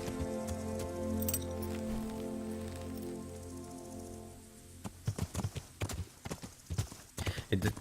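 Horse hooves clip-clop in a steady trotting rhythm in the medieval game Kingdom Come: Deliverance, moderately close and growing sharper toward the end, over a layer of game music and faint rustling ambience.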